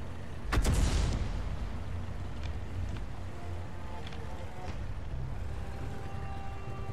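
A tank cannon in World of Tanks fires once with a loud, sharp boom that rolls off into a rumbling engine and battlefield hum, with faint distant shots afterward.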